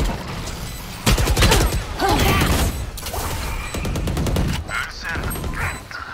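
Rapid bursts of gunfire from a shooter video game crackle almost nonstop, loud and close, with sharp automatic volleys and single shots stacked over one another.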